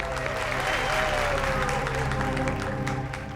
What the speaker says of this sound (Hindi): क्या बात है, तालियां बनती है इस बात पे डीकेसी चैरिटी के लिए।